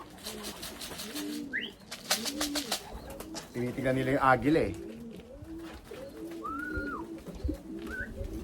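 Racing pigeons at a loft coo in soft, repeated low throaty calls, with a few chirps, while someone talks over them throughout.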